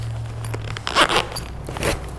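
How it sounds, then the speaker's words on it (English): A bag zipper is opened in a few short crackly bursts around the middle and end, close and moderately loud over a low steady hum. "It actually has a zipper."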